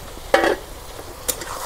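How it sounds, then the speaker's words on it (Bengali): Broiler chicken pieces fry in oil in a pan over a traditional clay stove, with a steady background sizzle broken by two loud stirring scrapes, the first longer, the second a brief clatter. "তেলের মধ্যে ভাজা ভাজা করে নিতেছি"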